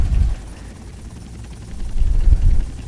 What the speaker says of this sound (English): There's a chopper already on me.